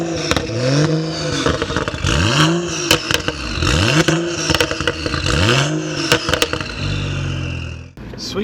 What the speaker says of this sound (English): we're just out now in the 135i N55 engine that I didn't even know existed